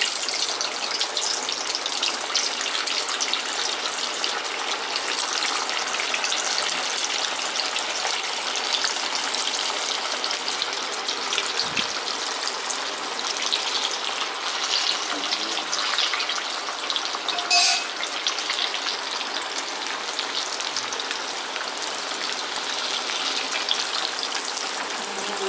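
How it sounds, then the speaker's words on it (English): Field gram puri (balar puri) deep-frying in hot oil in a village kitchen, a continuous bubbling sizzle that stays steady and close throughout. "Now let's deep fry this"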